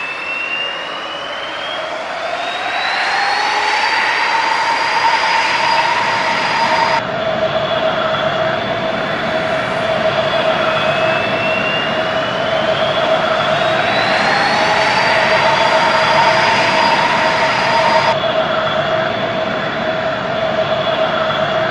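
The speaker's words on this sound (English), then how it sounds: "Engines coming on." Aircraft engines starting up in the Roblox game Project Flight: a loud, continuous synthetic roar with high whining tones that climb in pitch as they spool up, then settle into a steady drone, with no talking.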